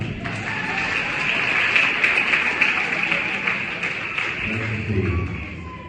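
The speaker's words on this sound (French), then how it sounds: "Applaudissez-la." Crowd applause at a graduation ceremony of a Bible study centre, dense, steady clapping filling the room for several seconds and fading slightly near the end.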